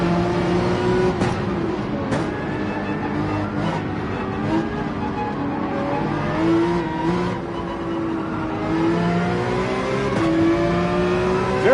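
Race car engines at Spa in Gran Turismo 7 drone and rev continuously, with a sustained whining tone that rises and falls as cars accelerate nearby. Faint passing engines sit under the main one.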